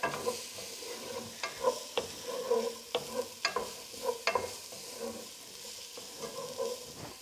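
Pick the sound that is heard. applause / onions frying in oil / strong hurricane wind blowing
onions frying in oil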